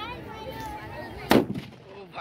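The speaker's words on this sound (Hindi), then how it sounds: "बच्चा हुआ पटाखा दिवाली का." A single sharp Diwali firecracker bang pops once, outdoors at a Chhath Puja gathering, amid background chatter and voices.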